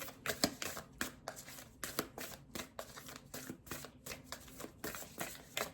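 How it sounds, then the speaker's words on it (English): A new deck of tarot cards, stiff and still sticking, being shuffled by hand in quick rhythmic riffles and flutters, close and fairly quiet. "Get a good shuffle in."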